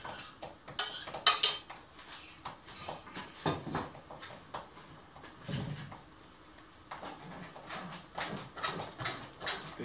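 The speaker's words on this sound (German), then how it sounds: "Und jetzt darf man es durch ein Sieb durchpassieren" Grape jelly mixture is pressed through a fine sieve with utensils, giving soft irregular metal scrapes and clinks against the mesh and bowl in a quiet kitchen.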